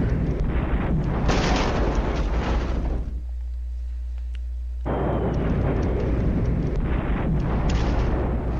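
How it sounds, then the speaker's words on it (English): Artillery fire and explosions in a WWII strategy video game: loud, dense booming blasts rolling almost continuously, with a short lull of near-quiet in the middle before another sustained barrage. "Artillery hits my anti-tank section, destroying another carrier, tow vehicle"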